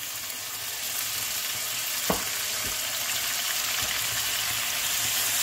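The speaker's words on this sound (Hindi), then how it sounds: "तेज़ आंच पर प्याज़ों को अदरक और लहसुन के पानी में चिकन को भूनते हुए" Steady sizzling as chicken and onions fry over high heat in ginger-garlic water for karahi, a continuous bright hiss with a couple of faint clinks, no voices.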